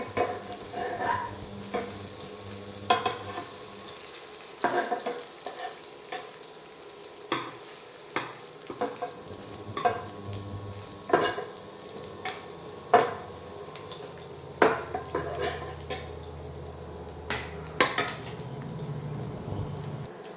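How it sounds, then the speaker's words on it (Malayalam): Prawns fry in hot oil in a pan and crackle steadily. Sharp scraping knocks come through as they are scooped out, and a low steady rumble runs underneath. "അപ്പോൾ നമ്മുടെ പ്രോൺസ് ഇവിടെ ഫ്രൈ ആയിട്ടുണ്ട്. നമുക്കിതൊന്ന് കോരി മാറ്റാം."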